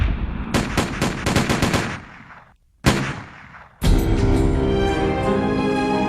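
Gunfire from American Revolutionary War fighting: rapid volleys of loud shots crackle in bursts, a brief lull, then a sharp single blast and sustained heavy firing that rumbles on continuously.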